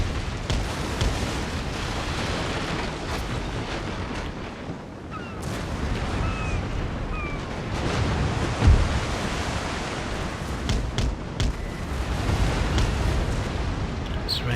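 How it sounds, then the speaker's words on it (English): Naval cannons fire grape shot in Napoleon Total War, a dense rumbling roar of broadband noise like surf with scattered sharp booms and one strong thud near the middle, continuous and moderately loud. "Let's bring our guns to bear. Try and use some grape shot."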